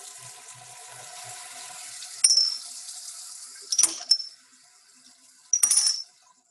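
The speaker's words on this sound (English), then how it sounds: "And we're just going to turn on the water." Water runs from a lab sink tap in steady bursts, hissing on and off with a few sharper clatters as it strikes the basin, fairly close and loud with no talk.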